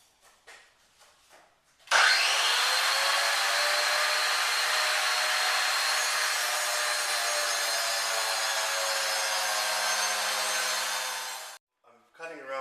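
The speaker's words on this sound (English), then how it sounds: "So we've got our wet saw with our special glass blade, and I'm just going to cut through" A wet saw fitted with a glass-cutting blade slices through glass tile, a loud, steady high-pitched whine with a grinding edge that runs unbroken for about ten seconds before it cuts off.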